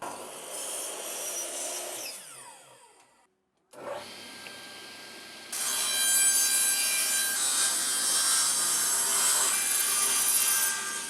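Scrap wood planks are sawn and stripped as damaged and broken parts are removed, with rough rasping saw strokes, a brief pause, then a louder, sustained power-tool whine close by.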